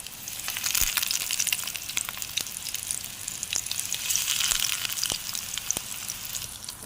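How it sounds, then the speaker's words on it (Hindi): Egg and potato kebabs fry in hot oil in a frying pan, a steady crackling sizzle broken by sharp pops and spits, close and fairly quiet. "तो अब हम इसमें एक एक करके अपने कबाब डालेंगे।"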